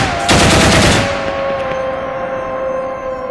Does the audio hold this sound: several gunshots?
yes